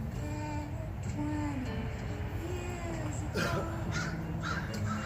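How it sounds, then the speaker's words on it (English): Crow cawing outdoors, a few harsh calls over a steady background hum, moderately distant. "Mama Crow, what are you doing?"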